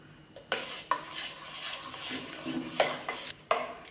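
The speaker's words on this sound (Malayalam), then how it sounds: "നന്നായിട്ട് തന്നെ ഒന്ന് മിക്സ് ചെയ്തെടുക്കാം." Appam batter made without coconut being stirred and mixed in a bowl, with a steady scraping swirl broken by several sharp clinks of the utensil against the container, close and moderately quiet.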